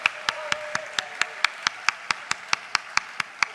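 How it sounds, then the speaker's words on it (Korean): An audience at the opening worship service of the 2013 Seongseo Hanguk gathering claps for people in their thirties, a steady, evenly timed beat of sharp claps in unison, about four per second, with no talking. "30대에게 박수를 보내고 계십니다"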